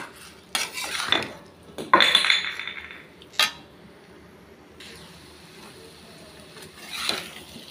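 Spiced arbi (taro) roasting in a pan, with bursts of metal spoon scraping and clinking against the pan in a few irregular strokes, then quieter stretches of faint frying.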